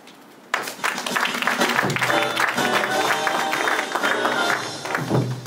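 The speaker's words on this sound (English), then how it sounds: "Let's give her another round of applause for the congratulatory message" An audience bursts into applause after a congratulatory message at the investiture of an IBAG president and council. Dense, sustained clapping starts sharply and carries on evenly throughout.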